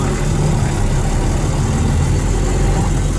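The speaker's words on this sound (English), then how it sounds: "it's a Suzuki S40 Boulevard" A Suzuki S40 Boulevard motorcycle engine idles with a loud, steady low rumble that holds constant throughout, with no talk.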